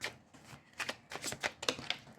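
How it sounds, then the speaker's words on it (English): Tarot cards being shuffled by hand, a close run of crisp riffling and slapping bursts that come in quick irregular clusters, fairly quiet and with no talking. "I'm going to shuffle a little more."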